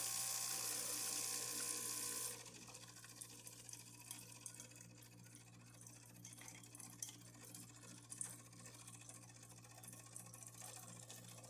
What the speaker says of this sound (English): this is the hot water.